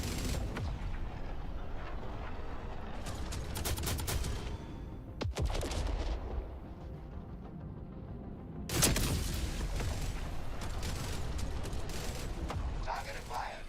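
Gunfire in Void Crew, a space video game, with long stretches of rapid automatic fire, a sharp single blast near the middle, a quieter lull, then another heavy barrage, with voices talking underneath.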